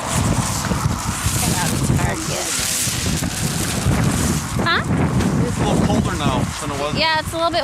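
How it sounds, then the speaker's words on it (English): Strong wind buffets the microphone outdoors on a chilly, snowy day. The rumble runs loud and continuous throughout, and voices talk over it. "it's a little bit more windy"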